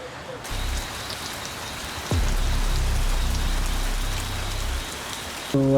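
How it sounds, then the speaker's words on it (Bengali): Night rain drums on a tin roof in a dense, steady hiss, growing heavier partway through and continuing without a break, with a brief deep thump near the middle. "টিনের উপর যখন বৃষ্টি পড়ে সেই শব্দটা আরও অসাল"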